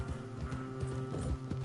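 A horse gallops across the ground in Red Dead Redemption 2, its hooves hitting in a steady fast rhythm of close thumping clip-clops with no talk.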